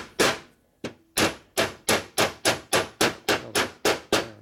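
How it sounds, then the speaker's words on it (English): A hammer taps repeatedly on Harley-Davidson 5-speed transmission parts during an Evolution FXR/FLT/FXST gearbox rebuild, roughly a dozen sharp, evenly spaced metallic knocks close to the mic, with no talking. "the other side of the hammer"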